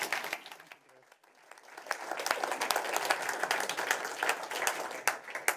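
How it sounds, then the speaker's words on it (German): An audience at a business dialogue event gives loud applause to welcome a speaker, starting with a few claps, dipping briefly, then swelling into steady, full clapping across the room. "gemeinsam mit Ihnen mit einem lauten Applaus David Hofer zu begrüßen"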